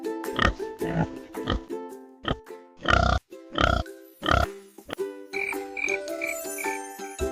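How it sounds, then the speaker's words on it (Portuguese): A farm pig gives a series of short, abrupt grunts in an uneven rhythm, loud and close, over a light tinkling music background. "É o porco."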